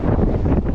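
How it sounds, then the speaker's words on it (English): Strong wind buffets a microphone outdoors at a high, open viewpoint, making a brief, loud, low rumbling gust with no voices. "Woo, wind."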